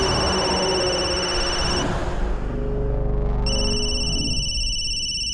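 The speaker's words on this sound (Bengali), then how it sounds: "ফোন ধরো" A telephone rings indoors with bright, steady electronic tones, which pause briefly and then resume over a dense, rumbling background of dramatic music.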